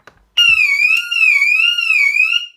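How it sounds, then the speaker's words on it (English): An HKC Quantum wireless window alarm suddenly blares and holds a high, wavering tone for a couple of seconds. It is loud and close, and a few faint clicks come underneath. "if anyone opens the window, the alarm's going off"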